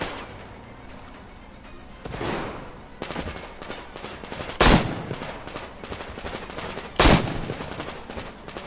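Gunfire in the video game Metro Exodus: three loud, sharp bursts spaced a couple of seconds apart over a steady background of rumbling combat noise.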